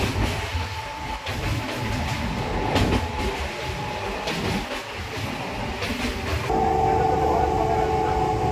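A crowded night local train running from Howrah toward Puri gives a loud, steady rumble of wheels and carriages with rhythmic clatter from inside the coach, and a thin, high tonal whine rises near the end.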